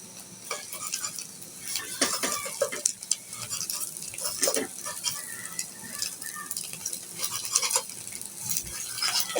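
Beaten salted egg frying in hot oil in a pan, a steady sizzle under intermittent scraping and stirring clatter, with faint fowl sounds in the background.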